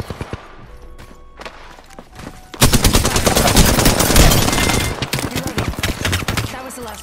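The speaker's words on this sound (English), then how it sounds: "Getting shot at." Gunfire aimed at the player in a video game arrives in sudden loud rapid bursts after a quieter stretch, continuing as dense, close automatic fire before easing into scattered shots.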